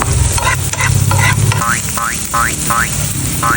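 Onions and green chili sauté in a pan while sisig is being made, a loud, close sizzle with stirring, then repeated rising electronic chirps that sound over the frying.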